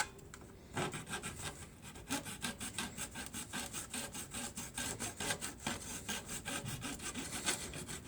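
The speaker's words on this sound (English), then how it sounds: "So let me cut those walls off first." Walls are sawn off a Titanic wreck model diorama: a continuous run of rapid, rhythmic rasping saw strokes, close and steady throughout, with no talking.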